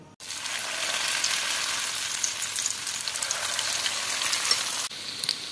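Maggi pakoras deep-fry in hot oil with a bright, steady bubbling sizzle, close and constant after a quick start, briefly cut near the end before resuming.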